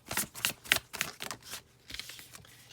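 Tarot cards riffled and slid across a table in quick, crisp bursts of rustling and flicking, close up, settling into softer, quieter card movements without any talk.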